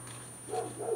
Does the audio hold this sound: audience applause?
no